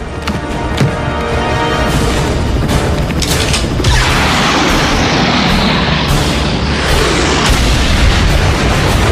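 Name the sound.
explosion on railway tracks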